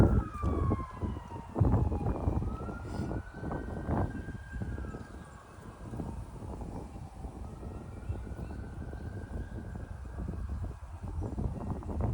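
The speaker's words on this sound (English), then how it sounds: "now they are even having the ambulance siren at the same time." An ambulance siren wails with rising and falling pitch sweeps over steady traffic noise, holding at moderate loudness throughout.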